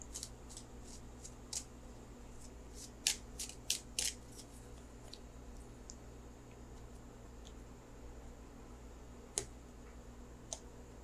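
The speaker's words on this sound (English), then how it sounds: "let me shuffle for the outcome card." Faint, quiet tarot card shuffling with scattered soft clicks and riffles, irregular and close, over a low steady background hum.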